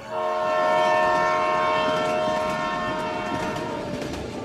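A train horn sounds loudly, a sustained tonal blare over the rumble of a train in motion, slowly fading toward the end.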